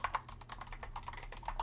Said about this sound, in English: See some typing on on this keyboard.